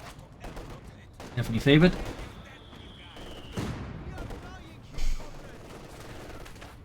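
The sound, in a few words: light machine gun fire in Company of Heroes 2 video game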